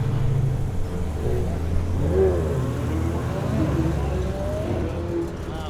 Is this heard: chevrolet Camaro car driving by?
yes